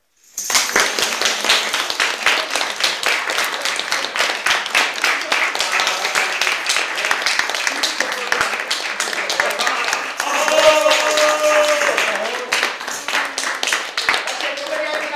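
An audience applauds after a children's fairy-tale play staged by local amateur actors: dense, steady clapping fills the whole stretch, fairly loud and close, with a few voices rising within it near the end.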